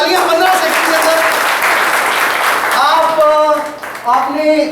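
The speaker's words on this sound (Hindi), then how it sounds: "आपने लिए बहुत सारी तालियां" Sustained audience applause during a leadership training session, dense and steady throughout, with a voice speaking over it near the end.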